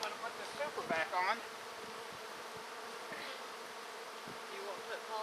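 Honeybees buzz steadily around an open hive being fitted with a super of drawn comb, a dense insect drone with a few louder passes of individual bees close by.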